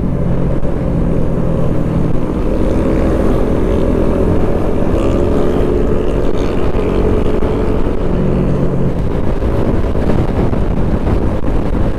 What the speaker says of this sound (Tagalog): Yung mga malalaking bike.